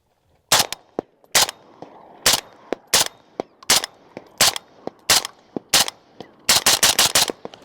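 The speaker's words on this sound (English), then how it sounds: "So we're just gonna shoot a couple of rounds of this real fast, just to see." A suppressed rifle firing standard 7.62x39 ammunition, about a dozen loud, close shots, first spaced irregularly and then ending in a quick rapid string, with near silence between reports.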